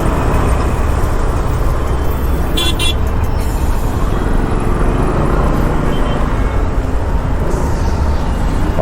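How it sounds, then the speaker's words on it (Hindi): Dense, heavy traffic on a city flyover near Pune roars steadily and loudly at close range. Vehicle horns toot now and then through the continuous wash of engine and road noise. "देखिए अब कितनी ज़्यादा ट्रैफिक हो गई है।"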